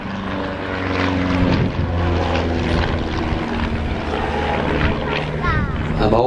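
A propeller aeroplane, bigger and less powerful than a Pitts, flying aerobatics such as flick rolls and a stall turn, with a loud continuous engine drone that rises and falls in pitch as it manoeuvres.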